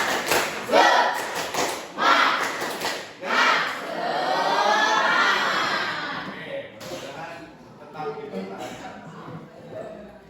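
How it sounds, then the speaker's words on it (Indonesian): A classroom group of students claps out the rhythmic 'tepuk semangat' spirit clap, several quick bursts of hand claps followed by voices chanting together, fairly close and loud. "Tepuk semangat."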